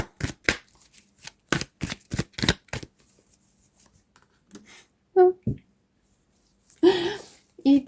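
Tarot cards being shuffled: a fast run of crisp riffling slaps and snaps, close and loud, then sparser card handling with short bursts of a voice and a laugh.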